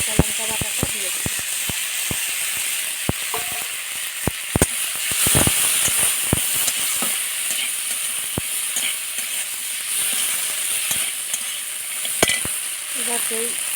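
Ginger and green chilli paste hitting hot oil in a pan with chickpeas for a village-style pumpkin curry: continuous close sizzling and hissing, scattered with sharp clicks and scrapes from stirring.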